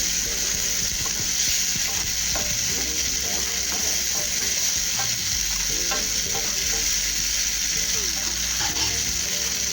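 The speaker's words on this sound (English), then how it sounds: "In goes my pepper mix." Steady, loud sizzling of a pepper mix frying in a hot pan for Nigerian fried rice, with occasional scraping and stirring clicks over the constant hiss.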